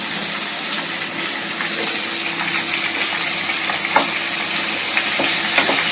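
Pieces of food dropped one at a time into a small pan sizzle and fry steadily, a close, continuous crackle with occasional sharper pops and no talking.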